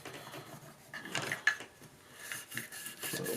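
A brush scrubs cleaner over a Mossberg 500 12-gauge pump-action shotgun in quiet, uneven rasping strokes that rise and fall close by.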